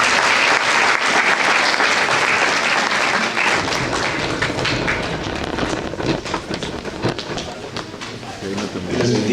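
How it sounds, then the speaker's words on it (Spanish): A church retreat congregation breaks into loud, dense applause for the Lord that carries on throughout, thinning slightly toward the end as voices rise beneath it. "¿Cuántos dan aplausos al Señor por este siervo?"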